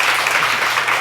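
A church congregation at a Sunday service claps to welcome a visiting guest, a loud, dense patter of many hands filling the whole second with no pause.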